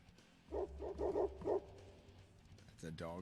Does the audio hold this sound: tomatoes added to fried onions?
no